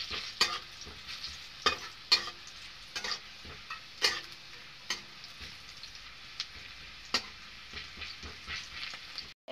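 Onions and green chillies fry in a pan for an egg chop, a steady sizzle broken by repeated sharp scrapes and taps of a stirring spoon, close and moderately loud with no talk.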